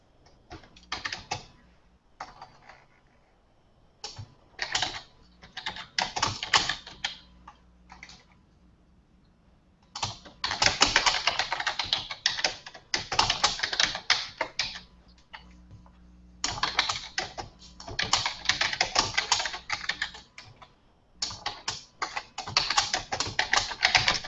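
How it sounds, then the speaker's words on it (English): Typing on a computer keyboard, alone and close, in irregular bursts of rapid clicky keystrokes separated by short pauses across a long stretch. "I'm just going to mute myself so that you can hear me typing."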